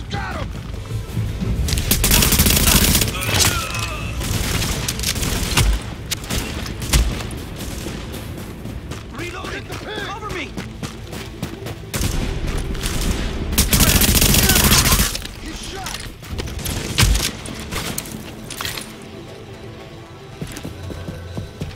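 Gunfire in The Division, repeated loud bursts of automatic fire and booms coming in waves over a steady combat din, with occasional voices.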